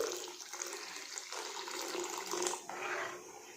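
Water pours steadily into a pot of thick Kathiyawadi-style urad dal, a continuous splashing gush lasting a few seconds with a brief dip near the end.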